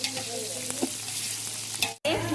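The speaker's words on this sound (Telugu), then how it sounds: "ఉల్లిపాయ కరివేపాకు అనేది బాగా వేగనించేంత వరకు వేగనిచ్చేసుకున్నాం" Onions and curry leaves fry in a pan: a steady, close sizzle with a few stirring scrapes, briefly cut out near the end before it resumes.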